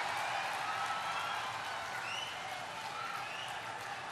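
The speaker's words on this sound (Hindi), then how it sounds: "आप जोरदार ढंग से खड़े होकर करतल ध्वनि से ये विकास की ताली पूरे देश में गूंजे" An audience at a prime ministerial speech event in Sindri, Dhanbad claps steadily in a sustained, dense wash of applause, heard from a distance with a faint murmur of crowd beneath.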